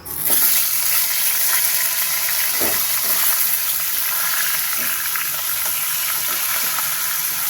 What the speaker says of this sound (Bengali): মাথাটা আমি সুন্দর করে ভেজে নেব